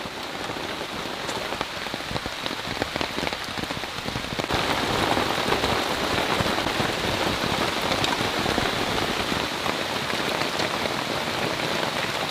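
Steady rain pours on a deserted island, a dense close hiss of drops hitting surfaces that grows heavier midway and continues without a break, with no voices.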